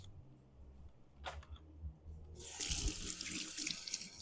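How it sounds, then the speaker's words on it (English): At a home kitchen sink, a few soft clicks and knocks lead into a tap opening and running steadily for hands to be washed under the close, continuous splash. "Wash your hands because you know what they say about clean hands."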